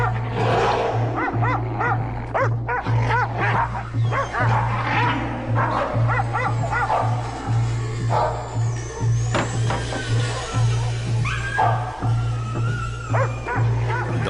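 Dogs bark, yip and whimper in overlapping, continuous chatter, close and loud over a steady low hum, with no one speaking.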